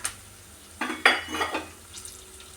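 Raisins hit a hot pan and fry for a pineapple kesribath, with a sharp clatter, then a few scraping stirs and a soft sizzle over about two and a half seconds. No one speaks.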